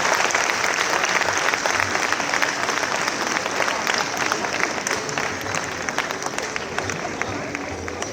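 Audience applause for the honoured guests at a Brahman community gathering, a dense, steady wash of clapping from a large crowd that stays loud for the whole stretch.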